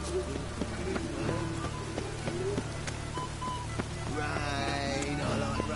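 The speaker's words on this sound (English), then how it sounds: "Looks like rain." Steady rain falls in The Witcher 3 video game, a continuous wet hiss with scattered drop taps; faint background game sounds and tonal music-like lines rise near the end, with no talking.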